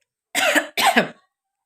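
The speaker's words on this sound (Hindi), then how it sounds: "जिसकी वजह से मुझे खांसी आ रही है" Two short, sharp coughs in quick succession, close and clear, with silence before and after.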